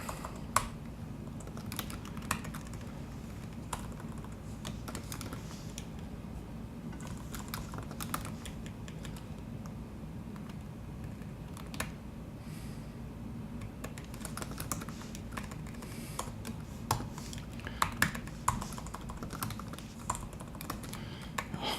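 Steady clicking of computer keyboard keys in quick irregular runs, close and moderately loud, over a low background hum with no speech.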